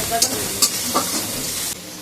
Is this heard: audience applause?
no